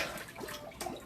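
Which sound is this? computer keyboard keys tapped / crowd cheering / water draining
water draining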